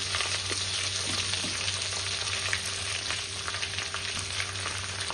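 Stuffed brinjals, packed with masala, fry in a pan with a steady, close, busy sizzle and crackle throughout, no voices.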